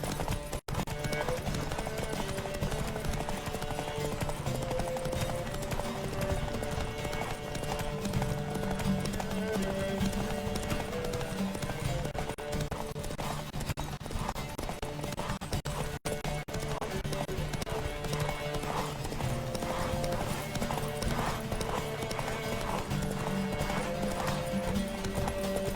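A horse gallops in a race in The Witcher 3 with rapid, continuous clip-clop hoofbeats over rushing wind and game ambience, steady and close throughout.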